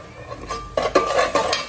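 A thick cooking pot used for making chicken is handled, giving three or four sharp metallic knocks and scrapes over a low kitchen hum, close and fairly loud with no talk.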